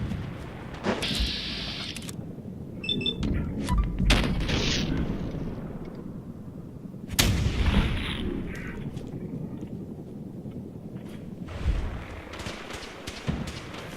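Fallout 4 game battle at Bunker Hill: loud bursts of gunfire and booms break out in several clusters, with a steady din of combat noise between them.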